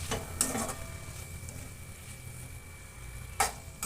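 Dried shrimp (sukat) sautés with tomatoes in a pan, a soft low sizzle broken by two sharp scraping stirs of a spoon near the start and end.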